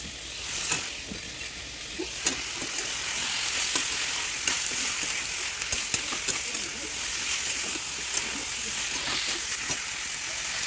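Steady sizzling of a vegetable bhaji frying in a pan, a constant crackling hiss with occasional sharper pops, fairly close.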